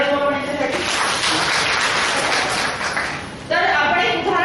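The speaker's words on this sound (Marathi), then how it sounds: "टाळ्या वाजवा याच्यासाठी" Hall audience at a workshop claps in a sustained burst, a dense, moderately loud patter that dips briefly and then swells again as a voice comes in over it.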